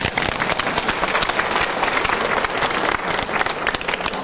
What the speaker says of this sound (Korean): 그래요, 박수 질러 한번 쳐봐.